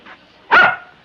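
A single sharp dog bark bursts out once, loud and close, in an otherwise quiet room, with no talking around it.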